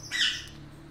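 A crag martin chick gives a single short, shrill squawk while being fed by hand, close and fairly loud against a quiet background.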